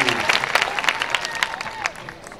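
Graduation audience clapping fills the hall, a dense burst of applause with a few shouts that thins and fades toward the end.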